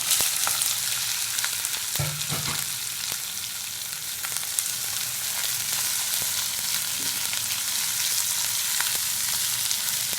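Chopped onions, garlic and green chilies fry lightly in oil in a pan for a soya cutlet snack, a steady soft sizzle with occasional stirring scrapes, close and continuous with no talk.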